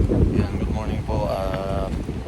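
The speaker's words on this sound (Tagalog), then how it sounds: "Lakas po ng hangin" Strong wind buffets the microphone outdoors at Ilaga in a steady, loud, rumbling gust, with a voice speaking over it.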